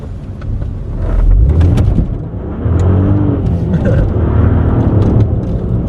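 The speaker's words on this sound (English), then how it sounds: "Safe to say there was a lot of wheel spin there." An Audi A3 3.2 V6 project car with traction control turned off revs hard and loud at close range during a wheel spin, its engine roar surging and holding with tire scrabble mixed in.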